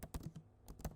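Keystrokes on a computer keyboard typing a short terminal command, a quick burst of several close, crisp clicks in about a second with a brief pause between two groups.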